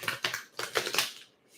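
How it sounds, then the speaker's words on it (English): A deck of tarot cards being shuffled close up, producing quick bursts of papery riffling and slapping in a few uneven clusters, moderately loud with no talking. "I'm just shuffling these cards here"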